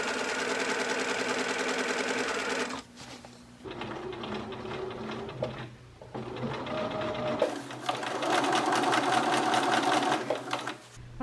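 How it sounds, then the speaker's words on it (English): A sewing machine stitches two layers of fabric for a midi dress, a close rapid mechanical chatter in several runs separated by brief pauses, the last run the loudest and longest. "I thought I was sewing 2 layers of fabrics."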